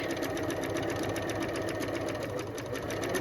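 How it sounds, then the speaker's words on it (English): A sewing machine runs steadily on a denim jacket, a continuous close, even rattling hum of rapid stitching with no pauses across the few seconds. "I'm just sewing the other side in exactly the same way"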